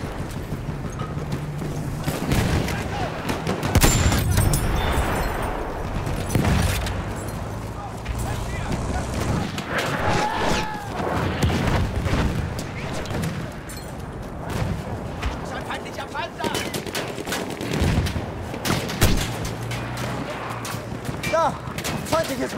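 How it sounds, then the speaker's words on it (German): Gunfire and machine gun bursts crackle through a WWII video game battle, a dense, continuous mix of shots and rumbling explosions with voices talking over the fighting. "Da! Feindliches Maschinengewehr!"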